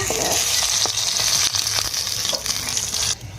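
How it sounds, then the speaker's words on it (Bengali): Fish pieces frying one by one in hot oil in a kadai, giving a steady loud sizzle with a few clinks of utensil against the pan, then cutting off abruptly near the end. "একে একে করে মাছগুলো ভেজে নেব।"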